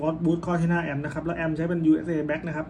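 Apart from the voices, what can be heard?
No everyday noises stand out.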